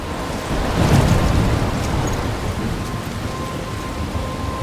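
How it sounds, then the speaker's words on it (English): Thunderstorm with heavy rain in the video game Life Is Strange: a dense, loud wash of rainfall with a deep rumble of thunder swelling early and rolling on under the steady downpour. "I'm trapped in a storm?"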